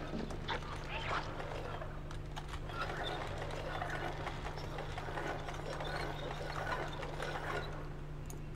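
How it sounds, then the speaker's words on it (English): Sausage-making machine running in the video game Little Nightmares, a steady loud clanking and grinding of gears with a rapid ratcheting rhythm throughout. "That's a sausage making machine. Well, let's make a sausage."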